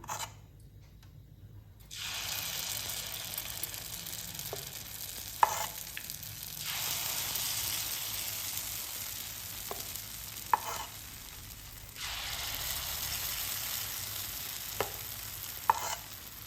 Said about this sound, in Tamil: நம்ம இப்போ வந்து பணியாரம் இதில் வந்து ஊற்றிடலாம்